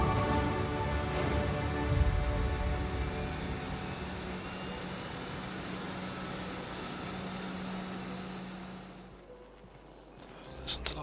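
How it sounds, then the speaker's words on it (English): A spaceship engine in The Outer Worlds gives off a steady, broad, jet-like hum that holds for most of the span, then dips and thins near the end. "hum of that engine"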